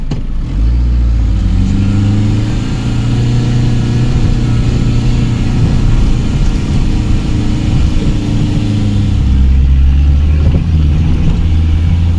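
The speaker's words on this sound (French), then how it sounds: "le moteur s'est étouffé tellement c'est raide" A van engine drones loudly and steadily throughout, labouring at low revs on a steep climb with a deep continuous rumble, the engine running hot.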